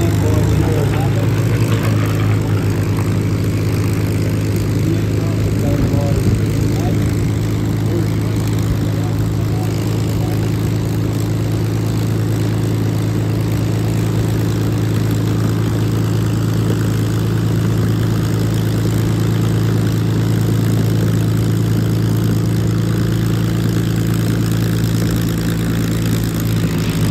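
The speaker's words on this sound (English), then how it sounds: "From the north, you can see our Warbird formation." A formation of WWII propeller warbirds flying overhead at Temora, a continuous deep droning engine hum that holds steady and loud throughout, with a commentator's voice occasionally over it.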